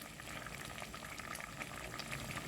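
Homemade dried apricot jam boiling steadily in a pot, a continuous close bubbling and popping hiss with no talk.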